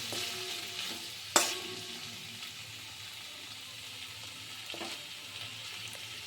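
Chopped tomatoes sizzle in a pan with frying potatoes as they are stirred, with a sharp utensil knock near the start and a second scrape later over a soft, steady hiss, and no voices.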